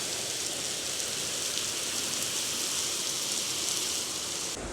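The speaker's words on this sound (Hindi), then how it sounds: "आप आवाज़ भी सुन सकते हो बारिश की।" Heavy rain pours steadily outside at night, a dense, even hiss with no pauses, heard from indoors.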